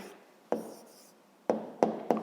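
Pen writing on paper at a desk: a few short, soft scratchy strokes with brief taps between them, close and quiet, with no talk.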